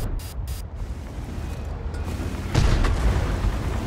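A tank cannon shot and explosion in World of Tanks, heard as a sudden broadband boom around midway that stays loud, with lighter distant rumbling before it and no talking.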